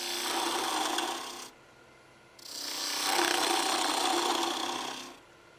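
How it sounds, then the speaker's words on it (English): A 3/8 spindle gouge cuts wood on a lathe during spindle turning, producing two sustained scraping, hissing passes, close and fairly loud, separated by a short quiet gap. "Pretty much use two tools, parting tool and in this case a 3/8 spindle gouge."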